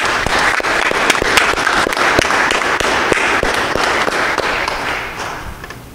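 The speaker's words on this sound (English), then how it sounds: "Let's give them a big round of applause." A church congregation gives a steady round of applause during a worship service, dense clapping with a few sharper claps standing out, fading slightly toward the end.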